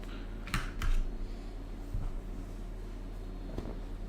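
Typing on a computer keyboard at a desk, a few scattered clusters of clicks and taps at a moderate distance over a steady low room hum, with no talking.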